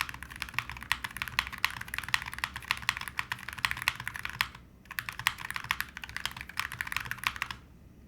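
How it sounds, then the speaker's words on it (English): Typing on a Salvation mechanical keyboard fitted with Hall effect (HE) switches, a bright-sounding board: a steady run of crisp, close keystrokes with a brief pause midway and a quiet tail at the end, no talk. "this is what the HE sounds like in the Salvation, and you know the Salvation's a very bright sounding keyboard"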